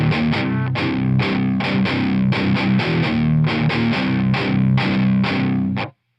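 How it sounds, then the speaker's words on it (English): A heavily distorted electric guitar chugs through the palm-muted riff of a song, short choppy bursts in a driving rhythm, then cuts off abruptly at the end. "the riff is the same, except the notes are palm muted, so it sounds like this"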